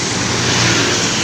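An Aneka Jaya intercity bus on the Surabaya–Ponorogo–Pacitan route roars past close by, a loud, steady engine and road-noise rush with no pause.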